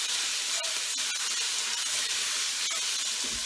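Garlic sizzles in a hot pan on a stove with a steady, loud hiss, broken by a few sharp pops and spits.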